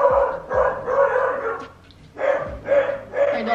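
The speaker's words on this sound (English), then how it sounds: "My dog is barking." A pet dog barks repeatedly in a loud, close series of sharp yaps with short pauses between bursts, filling the room with no talking over it.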